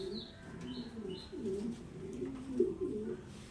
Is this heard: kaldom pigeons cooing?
yes